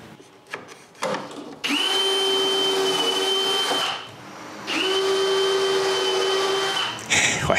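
A drill runs in two long, steady bursts with a high whine while boring a row of shelf pin holes through a jig guide for a closed bookcase, separated by a short pause and a few clicks at the start.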